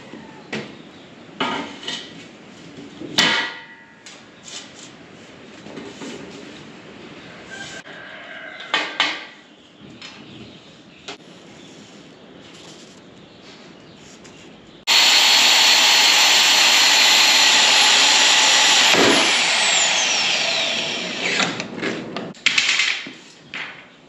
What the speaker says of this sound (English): Let's go ahead and get this piece cut to length.